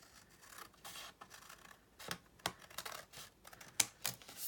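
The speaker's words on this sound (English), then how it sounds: "I'm just going to take my scissors and cut against it" Scissors cut through card in a series of close, crisp snips, spaced irregularly with a few sharper clicks, quiet overall and with no speech.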